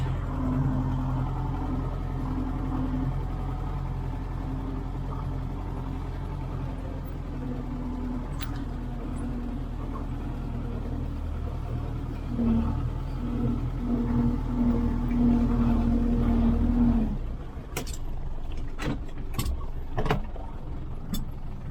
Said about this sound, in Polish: Jedziemy drugim ciągnikiem